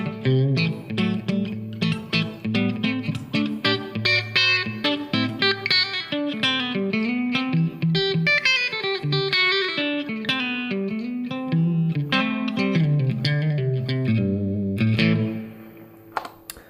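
A James Collins Redwood GTO electric guitar played through effects with its bridge pickup split to a single-coil tone, strummed chords and picked runs ringing loud and continuous, then fading out near the end.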